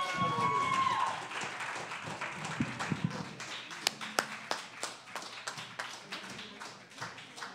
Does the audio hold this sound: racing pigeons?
no